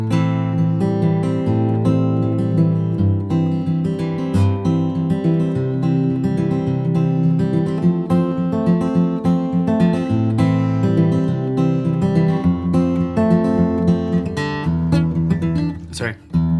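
Fingerpicked guitar pattern, the thumb staying on the higher bass strings while the fingers pluck the treble, played steadily and close up for about sixteen seconds with a dense, continuous flow of notes.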